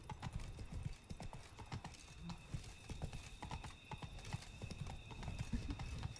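Rhythmic clip-clop of horse hooves trotting steadily in The Witcher 3: Wild Hunt, Blood and Wine expansion, with a brief neigh, over a quiet ambient background.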